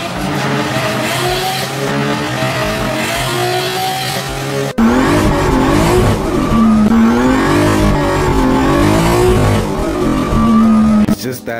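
A drift car engine revving hard with sharp throttle blips, rising and falling engine tones over continuous loud tire squeal, close and intense throughout.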